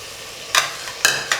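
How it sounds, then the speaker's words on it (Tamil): Chopped coriander and mint tipped into a sizzling pan of bottle gourd vegetable biryani masala paste, with a steady hiss of frying and three bursts of scraping stirring, close and fairly quiet, no voices. "இப்போ இந்த டைமில் கொஞ்சம் மல்லியும் புதினாவையும் போட்டுக்கலாம்."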